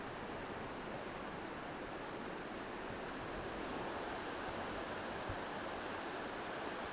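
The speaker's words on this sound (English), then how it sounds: "you can walk through the New York Creek Valley area here and constantly hear the waterfalls" Many small waterfalls in the New York Creek valley in misty rain blend into a soft, even, continuous wash of rushing water with no wind, heard at a steady moderate level.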